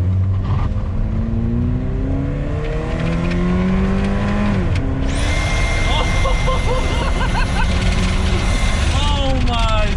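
Car fitted with electric turbochargers running on a dyno, the engine revving hard and climbing through the gears with a sudden gear change midway, loud and close, with people talking over it.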